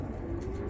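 A valued pet game pigeon gives a low, steady coo that holds close and continuous through a brief moment.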